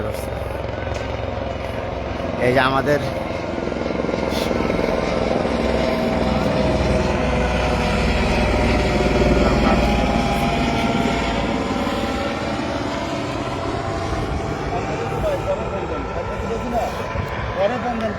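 A helicopter arrives at an outdoor gathering, its loud, steady rotor thrum and engine whine filling the whole stretch, with a crowd murmuring and someone speaking over it.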